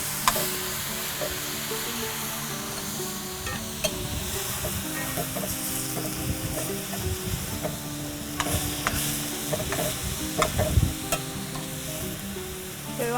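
Chataigne (breadfruit nut) curry being stirred in a frying pan, with steady close sizzling and repeated scraping, clattering spoon strokes throughout, no voices.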